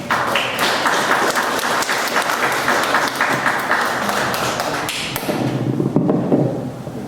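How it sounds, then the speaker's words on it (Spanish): An audience at a university student conversation event applauds a speaker introduced as electoral litigation coordinator, steady dense clapping throughout before it thins out near the end. "para quien pido un fuerte aplauso"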